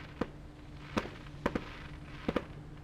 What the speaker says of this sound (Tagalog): Okay, may fireworks.